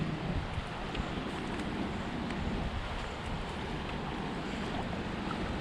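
St. Croix River flowing strongly just below an upstream dam, a steady broadband rush of moving water, continuous and fairly close with no voices.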